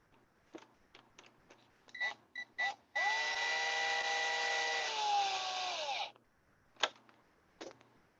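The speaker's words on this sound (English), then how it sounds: "especially right now I'm drilling in plastic, slow down" A drill whines steadily for about three seconds, cutting into plastic on a car, with a few short taps and clicks before and after.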